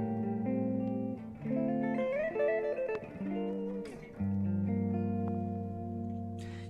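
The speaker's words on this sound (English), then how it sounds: "The last chord voicing I want to show you is another minor 7 chord" A guitar plays an exotic-sounding minor 7 chord voicing in a neo soul style. The notes are picked and strummed, ringing and sustaining in a warm, moderately quiet passage with no speech.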